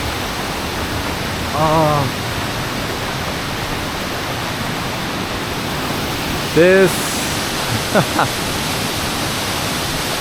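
Steady broadband rush of a waterfall in a Japanese forest, a constant close roar filling the whole clip, with brief voices speaking over it now and then.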